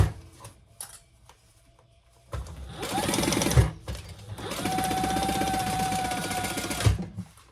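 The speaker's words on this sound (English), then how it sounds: "we're just going to sew down the sides" Sewing machine stitching down the sides of a bag: two bursts of rapid, close mechanical chattering, the first about a second long and the second about two and a half seconds, with quiet handling noises and clicks between and around them.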